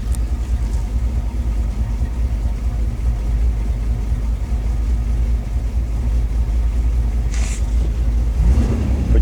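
A Chevy 350 V8 that fired right up idles steadily and fairly loud, a continuous low rumble with no talking, on a hot, muggy day.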